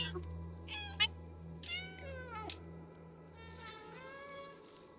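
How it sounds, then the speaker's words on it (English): A cat character in the video game Stray meows repeatedly, several short rising and falling calls over a steady low electronic hum, close and clear, with a voice murmuring faintly underneath. "Press B to meow."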